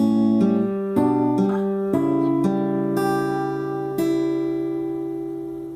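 An acoustic guitar plays a fingerpicked pattern, single notes plucked one after another and left ringing, with several chord changes over a sustained, clean sound.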